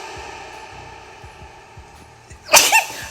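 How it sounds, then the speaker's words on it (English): A single sudden sneeze bursts out close by after a stretch of quiet humming background with a faint rhythmic thump. "Ooh, I have to sneeze."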